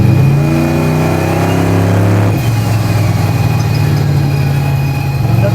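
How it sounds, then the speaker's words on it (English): A turbocharged 427 LSX truck engine revs loud and close, its rising harmonics climbing steadily before dropping off sharply at about two seconds into a rough, steady idle-level rumble. "The thing with this truck, it's very laggy because of the big ass turbo"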